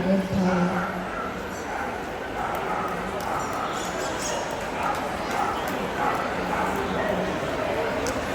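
A bearded collie barks and yips at a busy outdoor dog show, sharp bursts set against steady crowd noise and a voice talking over the scene.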